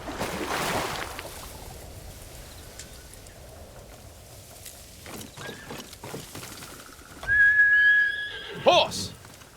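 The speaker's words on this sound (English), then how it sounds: "Horse!" A horse whinnies in the samurai action game Ghost of Tsushima, a short bright neigh rising near the end over a steady background of wind and ambient game sound.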